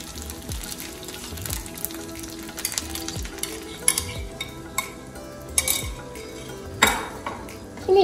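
Pongal being stirred in a pan with ghee as melted jaggery is added, giving a steady frying sizzle with repeated scrapes and clinks of a spoon against the metal pan, close and alone without talk.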